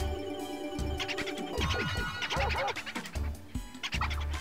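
Gobbling turkey-like taunt sound from Mario Party 7's Annoy mode, a rapid run of warbling gobbles over a bouncy game music bed, loud and close with no talk.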